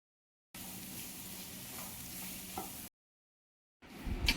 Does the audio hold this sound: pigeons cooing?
no